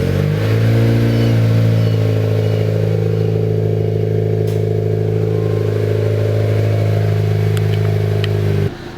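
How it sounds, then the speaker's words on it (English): Honda Civic Si fitted with a race exhaust idles loudly after starting, a deep steady droning engine rumble held close up for several seconds before cutting off abruptly at the end. "the only thing left to do is to turn the car on"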